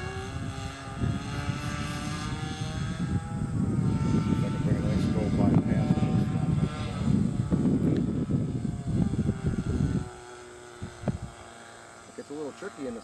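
A radio-controlled Ugly Stick model airplane flies overhead with its flaps deployed about a quarter of the way, its propeller engine droning steadily for about ten seconds before fading, while people talk over it.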